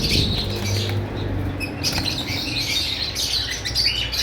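Caged pigeon and lovebird breeder pairs chirp and call together in a steady, busy chatter, with occasional wing flaps and no talking.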